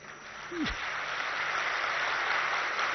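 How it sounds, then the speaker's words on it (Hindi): Steady applause from an audience at a spiritual question-and-answer panel session, a broad even wash of clapping that holds at a moderate level for the whole stretch, with one brief low tonal sweep near the start. "खुल के तालियां बजा लीजिए।"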